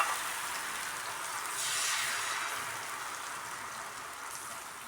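Rice flour dosa batter poured onto a very hot tava, a steady close sizzling hiss that swells briefly, with no voices over it.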